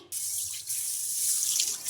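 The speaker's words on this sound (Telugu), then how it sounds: "ఈ పెసల్ని రెండుసార్లు శుభ్రంగా వాష్ చేసుకోవాలి" Tap water runs steadily into a bowl while green gram is rinsed, a continuous close splashing rush that lasts the whole moment with no talking.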